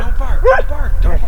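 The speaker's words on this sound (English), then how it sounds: "don't bark, don't do that." A dog barking on a spring wilderness trip, several close, loud yips and barks packed into a brief burst over steady outdoor rumble.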